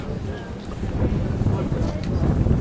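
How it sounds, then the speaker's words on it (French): Wind blowing over a lake at Queenstown, New Zealand, a steady low buffeting rumble against the microphone with faint background murmur, no clear talk. "On voit sur le lac, il y a du vent."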